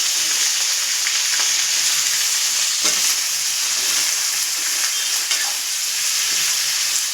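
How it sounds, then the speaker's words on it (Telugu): Ivy gourd pieces frying in a pan, a loud, steady hissing sizzle throughout with occasional faint stirring clicks and no talking. "దొండకాయ ముక్కలు అయితేను ఇవి వేసుకొని ఫ్రై చేసుకుందాము"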